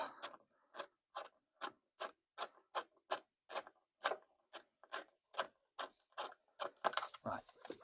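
Ratchet wrench with a 13mm socket turning a bolt while removing the engine from a Maserati 4200, giving a steady run of about fourteen crisp, evenly spaced clicking strokes, close and fairly loud, ending in a brief jumble of handling noise.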